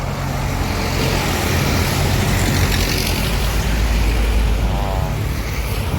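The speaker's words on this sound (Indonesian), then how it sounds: "Itu ada bus MPM sama NPM." MPM buses passing on a road, a loud, continuous roar of heavy engines and tyre noise with traffic rumble throughout.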